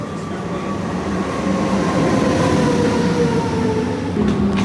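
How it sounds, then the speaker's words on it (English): Steady rumbling noise from inside or beside a moving Swiss train near Zurich, constant and fairly loud with a faint high whine, no talking. "that's our first Swiss train"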